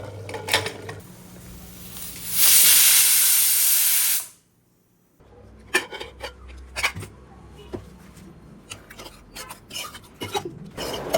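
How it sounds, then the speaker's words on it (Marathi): Pressure cooker with mutton keema releasing a loud, close whistle of hissing steam for about two seconds, then silence, followed by scattered clinks and rattles of pots in the kitchen. "आता आपण कुकरच्या शिट्या घेऊया."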